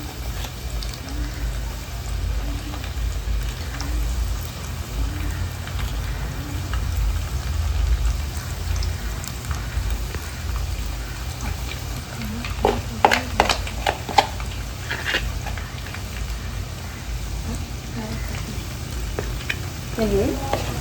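Maggi snack frying and being stirred in a pan over a low flame: a steady low sizzle runs throughout, with a cluster of sharper scraping stirs near the middle and end.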